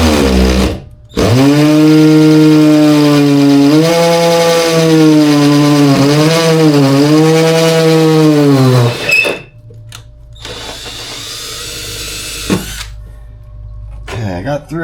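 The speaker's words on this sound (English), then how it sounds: "This stuff's tough to drill through." Power drill grinding through tough material in a V8 Fiero while fitting an aftermarket fuel gauge, with a loud, close, sustained whine whose pitch dips as the bit bites, then stopping, followed by quieter handling noises and a brief second burst.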